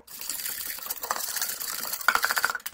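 Flour and water paste being stirred in a pot with a utensil, a continuous scraping and swishing that turns into a quicker run of clinking taps against the pot near the end, close and moderately loud, with no talk.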